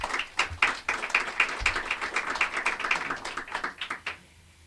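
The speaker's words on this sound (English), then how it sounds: "If we can give Stanley a round of applause." Applause from a modest audience at a government budget presentation, a few seconds of distinct, fairly sparse clapping at moderate distance that stops abruptly near the end.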